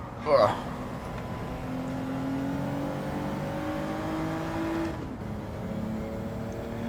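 A race car engine in the Gran Turismo 7 video game drones steadily on a race track, its pitch climbing and shifting through the gears, with a sharp burst near the start and a change around five seconds.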